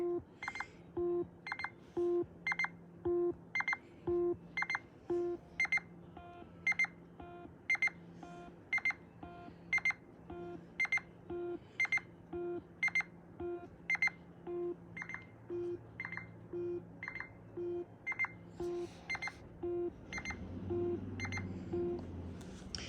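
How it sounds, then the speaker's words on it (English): A Nintendo Switch 2 controller rumble motor buzzes in a steady rapid rhythm of short beep-like tones, repeating evenly throughout, quiet and close. "that's not a speaker that's making that noise. That's actually the rumble motor making the noise."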